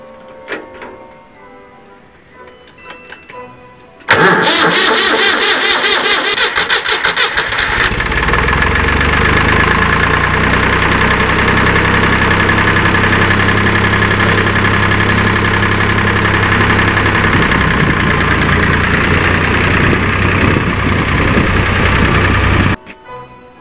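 A David Brown 885 tractor, just fitted with a new clutch, cranks briefly and then catches; the diesel engine roars up loudly and settles into a steady, rattling idle for nearly twenty seconds before cutting off abruptly.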